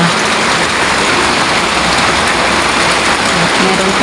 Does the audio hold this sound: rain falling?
yes